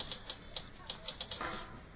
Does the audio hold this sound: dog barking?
no